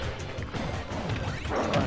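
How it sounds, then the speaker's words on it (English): A forward smash in Super Smash Bros lands a sharp, close thwack on the Hydrant, set within steady game clatter and impacts with no voices. "Good forward smashes the Hydrant, gets hit by it."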